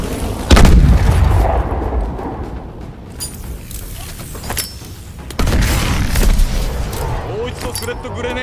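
Grenades detonate during grenade training in the game Call of Duty: Advanced Warfare: two loud, sharp blasts several seconds apart, each trailing into rumbling debris, with someone speaking between them.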